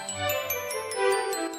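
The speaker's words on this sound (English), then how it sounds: "You hear those bells jingling?" Bright bells jingle in a continuous shimmering tinkle with gentle swells, close and clear, and no talking over them.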